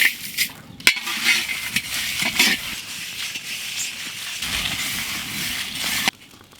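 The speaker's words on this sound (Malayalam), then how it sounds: "സ്പൈസസ് വറുത്തെടുക്കാം." Spices roast in a pan for a village-style Mumbai misal pav, giving a steady dry sizzle and crackle with a few scraping stirs and one sharp clack.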